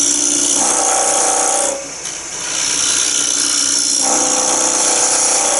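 Rod scraper cutting wood on a lathe, a loud close scraping and whirring hiss as the tool bears on the spinning wood, briefly easing off midway before resuming, with no talk.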